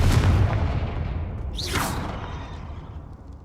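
A Confringo fire spell explodes in Hogwarts Legacy: a sweeping whoosh bursts out mid-clip over a steady low rumble of game sound, fairly loud and close, then fades.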